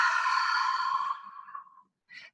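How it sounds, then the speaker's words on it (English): A long, soft exhale is blown over a fanned-out deck of oracle cards. It is close and airy and fades away over about two seconds, followed by a short second puff of breath, with no talk. "I breathe over the top of them"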